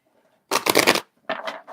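A deck of tarot cards being shuffled in two quick riffling bursts, the first longer and louder, the second broken into short choppy runs, close to the microphone with no talk.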